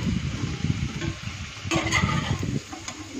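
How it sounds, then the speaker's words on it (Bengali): Prawns fry in hot oil in a pan with a soft, steady sizzle and some stirring scrapes, close and fairly quiet, no talking. "চিংড়ি মাছ ভাজা হয়ে গেছে, এবার মাছগুলোকে ধীরে ধীরে তুলে নেব।"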